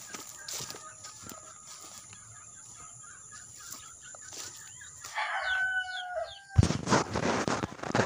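A gray laying hen clucks in short bursts among other fowl and a rooster outdoors, with bird calls scattered through and a louder flurry of clucking and flapping near the end.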